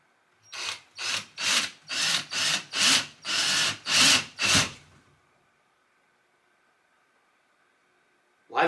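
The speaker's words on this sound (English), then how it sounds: "I am going to drill a hole in this damn refrigerator." A drill bores a hole through the metal skin of an old refrigerator, the bit grinding in about eight close, loud, rhythmic bursts over four seconds before stopping, followed by near silence.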